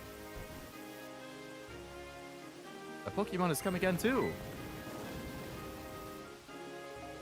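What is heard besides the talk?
rain in the video game Pokemon White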